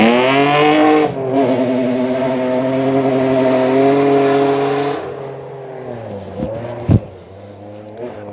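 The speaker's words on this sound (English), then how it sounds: "I love the sound of that M3." A BMW M3 rally car on a forest stage of the 2025 Oregon Trail Rally sings through high revs, then shifts down and its engine note drops as it passes, loud and close with a sharp pop near the end.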